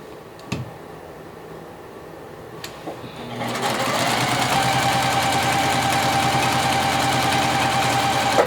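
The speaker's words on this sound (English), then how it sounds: "I'm just chain piecing them together to help to make this process go a bit faster." A sewing machine chain piecing quilt blocks for a cross weave quilt, starting after a few soft clicks and then running steadily and loudly for several seconds with a continuous mechanical whir.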